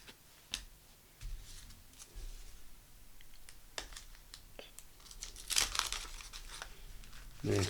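Vintage wax packs of rock star trading cards, about 47 years old, are ripped open with sharp crinkling and tearing of wax paper, several brief rips and rustles close by, quiet between bursts.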